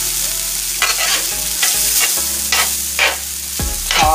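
Short ribs are tossed in hot oil with soy sauce, giving a loud, close, continuous sizzle and frying crackle with stirring scrapes and clatters throughout.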